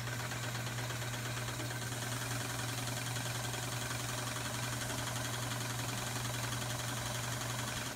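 A vintage Sears Kenmore sewing machine runs steadily through decorative wavy-line stitches, giving a continuous motor hum with a dense mechanical whir. No voices break in, and the level stays even from start to finish.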